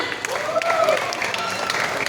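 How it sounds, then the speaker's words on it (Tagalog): Audience applauding at a beauty pageant in the Philippines, a short burst of clapping with scattered shouts and whoops from the crowd, under a host's amplified voice calling out. "Wala po ba ang palakpakan dyan?"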